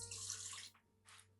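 Water runs in a steady splashing stream for about half a second, stops, then a shorter second pour follows; close and fairly loud, no voices.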